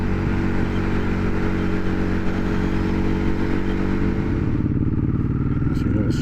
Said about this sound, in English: that's this low down splittering when I'm just chugging along like this